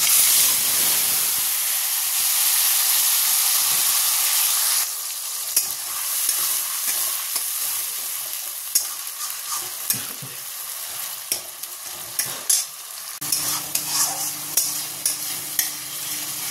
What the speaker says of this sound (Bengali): এবার দিয়ে দেবো বাটা মশলা, টমেটো আর কাঁচা লঙ্কা।